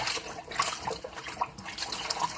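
A cotton T-shirt going into a water bath to halt bleaching, with soft splashing and trickling water heard close, sloshing steadily with small drips throughout and no speech.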